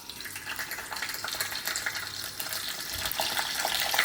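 Hilsa fish heads fry in hot oil with a bay-leaf tempering. A steady, bright sizzling hiss with crackling spits builds gradually louder.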